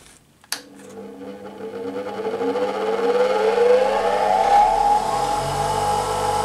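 A small Workzone bench grinder clicks on and spins up, its whirring motor tone rising in pitch over several seconds before settling into a steady, fairly loud hum.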